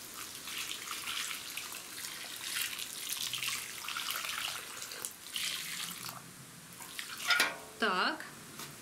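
Water trickling from a small container onto cucumber seedlings in a greenhouse, a soft splashing pour that grows louder near the end.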